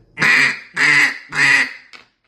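A cut-down duck call is blown in three loud, drawn-out quacks close up, followed by a short faint fourth note.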